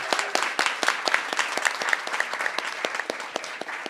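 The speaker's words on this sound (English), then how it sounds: "Please applaud and cheer as you'd like." An audience at a poetry recitation finals event claps steadily, a dense, even patter of many hands at close-to-mid range, sustained and fairly loud without audible cheering.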